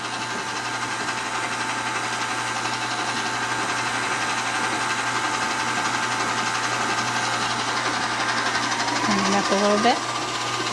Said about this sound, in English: we're just going to use this KitchenAid because we have it out